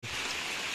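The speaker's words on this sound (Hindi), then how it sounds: "भारी बारिश हो रही है अपने इधर" Heavy rain pours down steadily outdoors, with people sheltering under a tree. The hiss is dense and continuous, at a moderate level.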